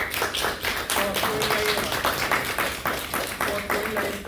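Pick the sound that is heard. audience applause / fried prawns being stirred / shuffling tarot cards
audience applause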